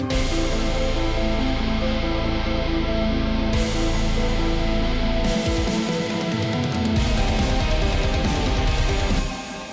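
An ambient break from a metal song plays as sustained layered synth-like textures that shift in sections, loud and continuous with no voices.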